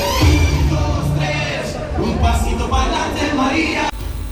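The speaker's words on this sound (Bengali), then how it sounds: "আমাদের কান্ট্রি বয় ব্র্যান্ডের জন্য একটা করতালি হয়ে যাবে।" Shopping complex crowd during a brand model event at Bashundhara gives loud cheering, whoops and shouts in a dense, continuous din, cutting off abruptly near the end.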